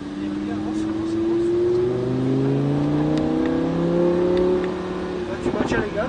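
A sports car on a racetrack during a driving course accelerates steadily, its engine note rising and sustained near and loud throughout, with a brief change toward the end as the revs shift.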